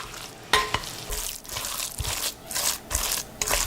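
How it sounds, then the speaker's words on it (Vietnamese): Seasoned ground meat is mixed by hand with fried shallots, garlic and chopped scallions, making close, wet squishing and crunching sounds in irregular pulses, with no talking. "Trộn thịt lên cho đều."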